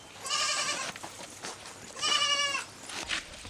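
A goat bleats twice at close range, each call a wavering, nasal cry of about half a second, separated by quiet farmyard background.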